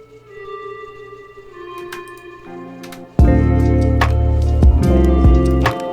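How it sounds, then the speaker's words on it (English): A Serum-preset synth melody in an electronic track, sent through a fully wet reverb, starts soft and sparse, then swells at once into a loud, sustained, washed-out chordal tone that holds to the end. "which is just for the synth melody, which is here."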